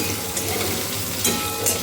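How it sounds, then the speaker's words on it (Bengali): Potato pieces fry in hot oil in a pan, giving a steady, dense crackling sizzle that holds evenly throughout, close and fairly loud with no talking. "আলুটা একটু ভাজা ভাজা হোক"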